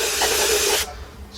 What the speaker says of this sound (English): Take my carburetor cleaner,